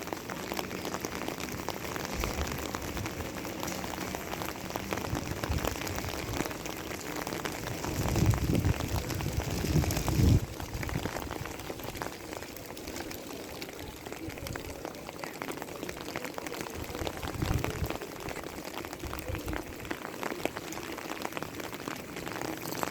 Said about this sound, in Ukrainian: і такий періщий дощ